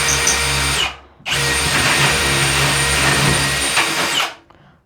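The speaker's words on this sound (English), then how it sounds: "right before you started drilling" A power drill runs at full speed in two loud bursts during bathroom supply plumbing work, with a brief pause between them, close and alone.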